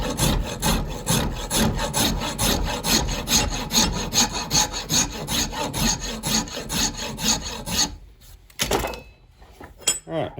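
Hand rasp filing a hickory knife handle, a rapid steady series of rough scraping strokes close up, then a few slower isolated scrapes with short pauses.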